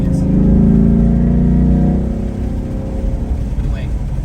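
Corsa active exhaust on a 2019 Ford Mustang GT running in quiet mode, giving a low, muted engine drone under acceleration that eases off after about two seconds into a softer rumble.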